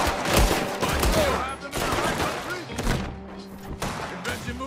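Gunfire in Red Dead Redemption 2 erupts in dense, rapid volleys and heavy thuds, loud and continuous, with voices talking underneath.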